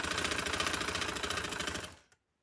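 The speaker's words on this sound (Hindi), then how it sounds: "चलिए अब इसकी सिलाई करते हैं।" A sewing machine stitching cotton fabric, running in a fast, even mechanical rattle up close for about two seconds before stopping, followed by a single faint click.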